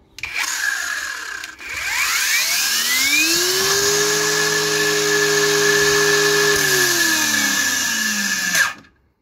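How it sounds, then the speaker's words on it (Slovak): A Parkside PWSAP 20-Li C3 cordless angle grinder spins up with a rising whine, holds a steady loud high-pitched hum, then its brake pulls the tone sharply down to a stop. No voices are present. "Tá brzda je myslím, že celkom dobrá, pretože ak tú brúsku chcete položiť"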